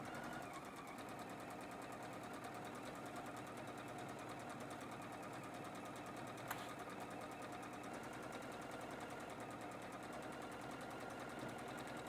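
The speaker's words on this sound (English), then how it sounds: "as I start, I also want to back stitch" A sewing machine back stitches an apron seam, a continuous rapid mechanical whirr with fine rhythmic ticking that holds steady throughout, faint and even, with one brief click near the middle and no talking.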